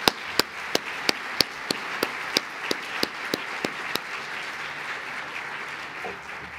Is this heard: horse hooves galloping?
no